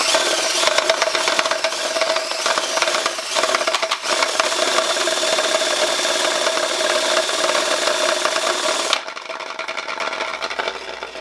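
A can of Rust-Oleum enamel paint rattling in a motorized paint shaker, a loud continuous grinding churn that runs steadily for several seconds before dropping off to a softer hum.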